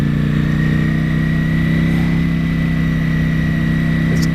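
A 2018 Ducati Panigale V4S engine runs at a steady, loud idle, a close, even, low rumbling drone that holds constant throughout with no talk.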